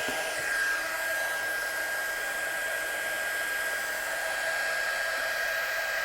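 A heat gun blowing steadily at close range to melt embossing powder on card artwork, a continuous airy whoosh with a thin high whine, alone with no talking.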